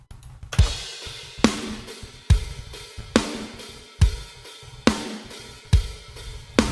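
A drum kit plays a steady beat, punchy kick and snare hits repeating evenly with cymbal wash between, full and close with no voices.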